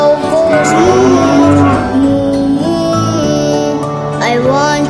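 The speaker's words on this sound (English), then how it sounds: "When the cow goes" Cattle mooing loudly and close, a long sustained low call with rich harmonics that rises and falls over several seconds, alone with no talking.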